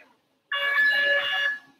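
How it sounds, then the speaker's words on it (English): A quiz buzzer at a school German spelling bee is tested, giving one steady electronic tone lasting about a second, loud and alone in a hall. "We'll just check the buzzer once."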